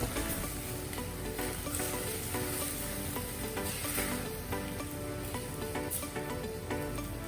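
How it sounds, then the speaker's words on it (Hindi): Mixed vegetables and basmati rice frying in a pan for a satvik pulao, a steady close crackling sizzle with faint stirring scrapes running evenly throughout, no voices over it. "थोड़ा सा भूनिए।"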